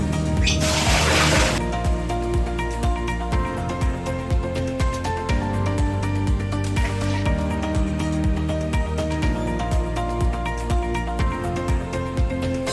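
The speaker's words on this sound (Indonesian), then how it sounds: "selanjutnya kita siram menggunakan air." A toilet is flushed with water in a short, loud splashing rush at the start, then fades as steady background music carries on.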